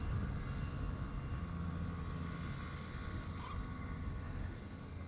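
A Boeing 787-9 airliner on approach to runway 18R at Amsterdam Schiphol, a distant, steady low engine drone that stays faint and even throughout, with no talk.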